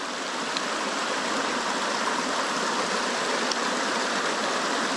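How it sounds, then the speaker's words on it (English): A fast-flowing stream in the Australian bush rushes steadily and loudly for the whole stretch, a dense, even wash of water with no voices over it. "Let's try out here in the faster water."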